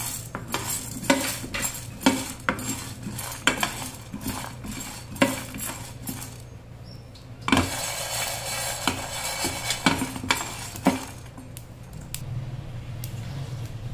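Urad dal, chana dal, mustard seeds, cumin and fenugreek seeds are fried in oil with brinjal in a pan for an Andhra-style curry, with repeated sharp clinks of a metal spoon stirring against the pan over a soft background sizzle.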